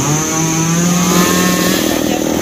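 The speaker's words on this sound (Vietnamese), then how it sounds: "Có toàn cưa cái cây xoài ghép này nha cả nhà." A chainsaw bites steadily into a grafted mango tree tangled with power and internet cables, its engine holding a loud, close, continuous whine with no pauses.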